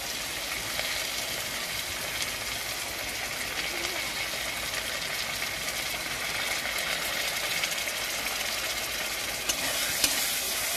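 A steady sizzling and frying hiss fills the clip as catla fish masala cooks with yogurt, with soft scraping of a spoon stirring in a pan underneath.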